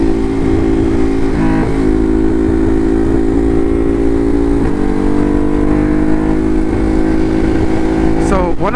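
A Ducati Hypermotard engine drones loud and steady while riding on a highway and lane splitting, with wind rushing and brief shifts in pitch, close and continuous.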